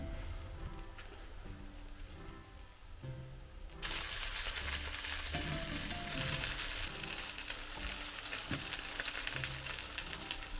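Cretan Sfakiani pita frying in a pan, a steady crackling sizzle close by that swells noticeably louder partway through and then keeps hissing and popping without talk.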